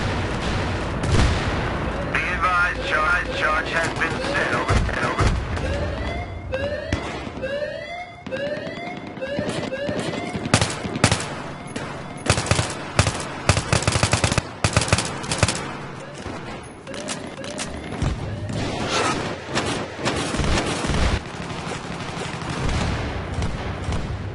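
Rapid gunfire and bursting explosive rounds in Battlefield 3 crack in dense volleys, loud and close, with rising whistling tones and brief lulls between barrages.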